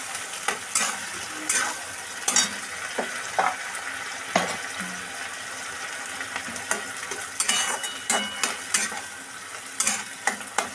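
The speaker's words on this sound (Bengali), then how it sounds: "পেঁয়াজ আদা রসুন লঙ্কা বাটার পেস্টটা এবার" An onion, ginger, garlic and chili paste fries with colocasia greens (kochu shak) in a pan, a steady sizzle broken by repeated sharp scraping stirs of a spatula, close and clear with no talk.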